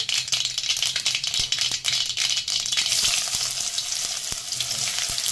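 Mustard seeds and onions fry in a pan for a potato bhaji, a loud continuous sizzle scattered with sharp popping crackles and a few stirring rattles, close up and without talk.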